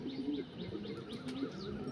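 A breeder pigeon coos in soft, repeated rolling calls close by, with faint chirps mixed in against a quiet background.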